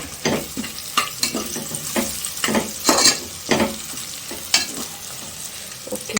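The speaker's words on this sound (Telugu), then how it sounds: "ఉల్లిపాయలు కూడా వేగిపోతున్నాయి" Onions fry with biryani masala, bay leaf, cinnamon and cardamom in a pan, a steady close sizzle broken by repeated scraping stirs of a spoon, with no voices.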